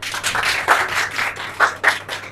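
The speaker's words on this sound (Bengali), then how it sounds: "তোমরা নিজেদের জন্য হাততালি দে" Schoolchildren in a classroom clap for themselves after a correct answer, a short ragged burst of hand claps with several sharper accented claps, fairly close and with no talking.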